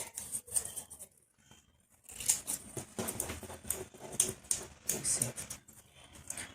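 Scissors snip half cuts into paper petals, making quiet, close, crisp clipping sounds in short bursts, with a near-silent pause before a busier run of cuts.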